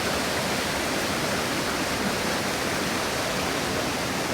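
Glenelg Falls pours into a river in a steady, full roar of rushing water, loud and close, with no voices over it.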